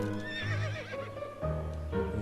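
Horse whinnying in the video game To the Moon, a single drawn-out neigh with wavering pitch rising and falling, fairly close and loud over a steady game-music bed, with no talking.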